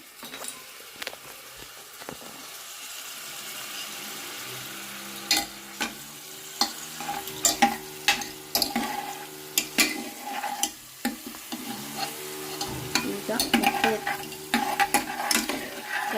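Ingredients for egg biryani frying in a pot, a constant sizzle under repeated scraping and clanking strokes of a metal spoon stirring, growing busier and louder toward the end, close by with no voices.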